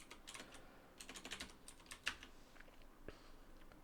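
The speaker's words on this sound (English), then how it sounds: "I think I'm typing the wrong thing." Fingers type on a computer keyboard in quick irregular bursts of clicks and taps, fairly faint and close, with a louder keystroke midway and a short pause near the end.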